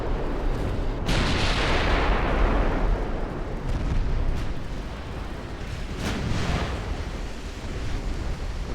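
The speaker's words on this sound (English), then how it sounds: "start shooting the next target." Heavy naval gunfire from Ultimate Admiral: Dreadnoughts, with 1890-era warships firing on battlecruisers: a loud burst of cannon blasts rolling into sustained rumbling booms, with a few sharper reports layered on top.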